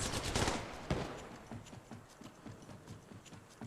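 Gunfire rattles in the mobile battle royale game Apex Legends Mobile, opening with a loud burst of rapid shots and then thinning into lighter, evenly spaced pops that fade off, with no speech.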